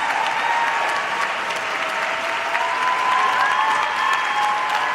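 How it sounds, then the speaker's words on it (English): Sustained applause from a large audience at a conference for Palestine, given for the panelists, steady and full throughout with a faint tone running beneath the clapping. "Let's give a round of applause for our panelists."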